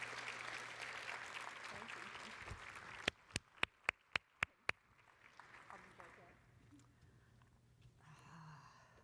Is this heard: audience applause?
yes